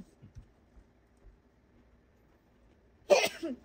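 Near silence with faint scattered noises, then one sudden loud sneeze or cough burst near the end.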